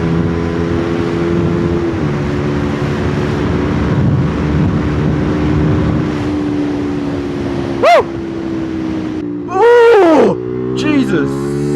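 A Rieju RS3 125cc sport motorcycle engine drones loudly at high revs while riding, holding steady before sharp rising and falling rev sweeps near the end, with wind rushing underneath.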